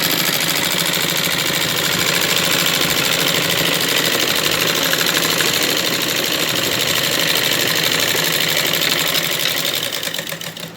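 A sewing machine stitches salwar fabric, a loud, continuous rapid mechanical whir and needle rattle, steady from start to near the end before easing off.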